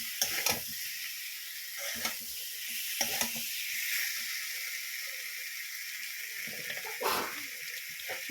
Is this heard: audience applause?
no